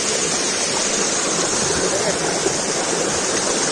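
A waterfall beside a mountain trekking trail roars steadily as a dense, unbroken wash of rushing water, close and loud throughout.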